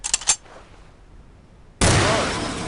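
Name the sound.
pistol gunshots at firing range target, Soldier of Fortune 2 video game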